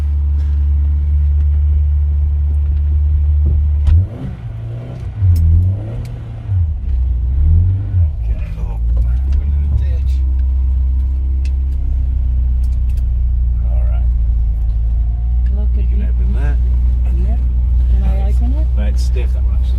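A 1960 Lancia Appia classic Italian car driving, its engine a steady low rumble throughout with a few rising and falling revs early on, heard from inside with people talking over it.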